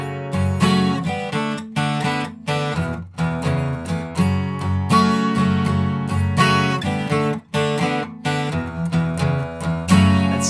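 An acoustic guitar plays the chorus of a song in a blues style, with strummed chords and picked notes in a steady rhythmic groove, close and clear with no talking.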